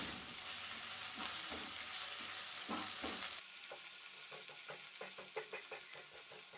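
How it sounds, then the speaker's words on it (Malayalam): Tomato and onions sauté in a pan with a loud, steady sizzle. Repeated scraping and clacking stir strokes come thicker toward the end. "ആ തക്കാളിയും കൂടി ചേർത്തിട്ട് നല്ലപോലെ ഒന്ന് വഴറ്റിയെടുക്കാം"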